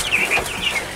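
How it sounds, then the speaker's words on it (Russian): Quails cluck and chirp in quick, overlapping bursts close by, a busy chatter of poultry with no talking. "Перепелочки."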